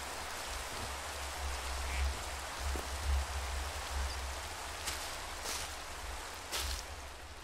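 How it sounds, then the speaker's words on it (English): Steady rain falling in the Seaopolis 2 video game, a continuous soft hiss with low rumble underneath, holding at an even level throughout with a few brief brighter spatters. "Let's go for a sleep so we can get this rain stopped."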